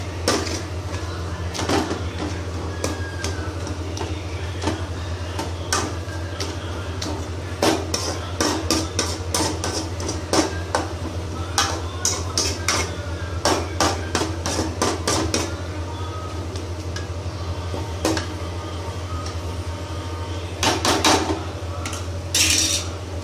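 A utensil mashes cooked bottle gourd in a pan, making irregular clinks and taps of metal against metal over a low steady hum, some in quick clusters, with no talking.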